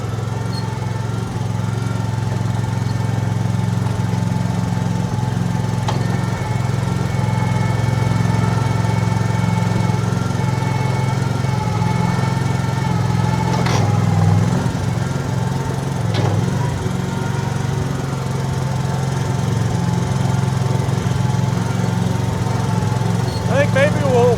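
A $500 used skid steer runs steadily at close range with a constant low engine drone and faint higher mechanical rattles while scraping the top layer of manure off a floor. A couple of brief scrapes or knocks cut through the drone.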